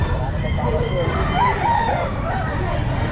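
A Sweater gamefowl rooster, nine months old, crows at an outdoor pet market, a mid-distance drawn-out call rising over steady crowd noise and background chatter.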